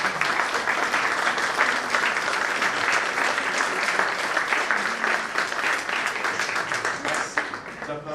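Applause at an exhibition of Armenian church models, sustained clapping from a sizable crowd with sharp individual claps standing out, steady throughout.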